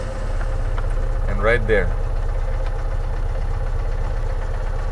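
A cold 1983 Subaru Sambar kei van with a two-cylinder 550cc engine cranks briefly and then settles into a steady, lumpy, low idle close by. Someone speaks briefly over it.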